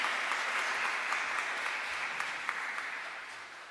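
A church congregation at a Palm Sunday service in an Urdu-language Catholic church in Antwerp claps in sustained, dense applause that fades slightly toward the end.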